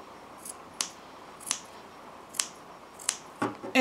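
Scissors snip notches into coat fabric, four or five crisp separate cuts spaced about a second apart, close and fairly quiet with no talk.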